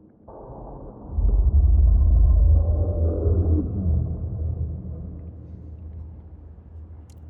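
Deep low rumble of the angry mountain spirit in the game Noita swells in after a second, stays heavy and sustained, then slowly fades away.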